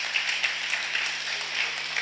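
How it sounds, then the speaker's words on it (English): Sustained audience applause at a health and sanitation symposium at Tangaza University, a steady dense wash of many hands clapping in a hall for the full two seconds, with no voice over it. "Let's clap for them once more."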